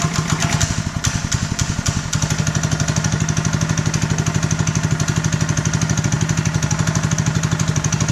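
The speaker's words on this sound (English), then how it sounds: "I'm just going to throttle it up on the engine itself" A small sod cutter engine runs steadily close by, its rapid rhythmic chugging holding an even, loud idle with a brief rise in pitch near the start as it is throttled up.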